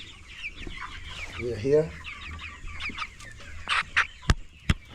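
Improved Kienyeji chicks cluck and cheep close by in a brooder pen, with a short burst of louder fowl calls mid-clip and sharp peeps toward the end, while a person speaks briefly.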